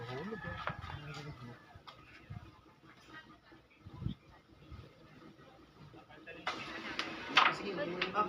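Chickens cluck and a rooster calls at a Philippine billiards match venue, faint bursts of fowl sounds mixed with people talking and background noise, louder toward the end.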